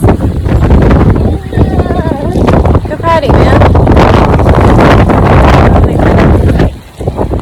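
Gusty wind from an approaching storm buffets the microphone in loud, rumbling bursts that briefly ease near the end, while someone talks under the noise.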